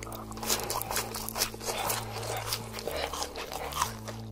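Crunchy mukbang eating, a series of close, crisp bites and chewing crunches over a low steady hum, with faint background sound between bites.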